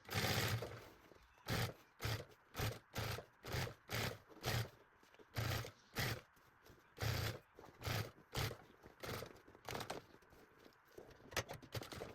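A sewing machine stitches synthetic bias binding in bursts of rapid mechanical whirring, about a dozen short runs separated by brief pauses, close and fairly quiet.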